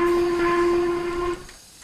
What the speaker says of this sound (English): I still love that whistle.